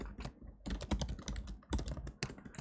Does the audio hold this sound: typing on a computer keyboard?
yes